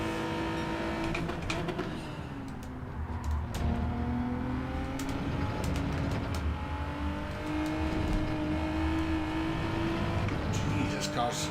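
A Group 3 race car engine in Gran Turismo 7 at Monza revs and shifts through gears, rising and falling whines with brief tire squeal, while someone talks over it.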